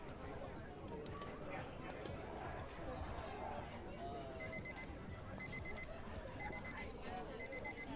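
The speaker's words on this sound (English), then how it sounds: "You might hear the clock beeping nearby here." At a baseball game, a pitch clock timer beeps in quick repeated bursts during the second half, faint and off to one side under crowd chatter and the noise of the ballpark.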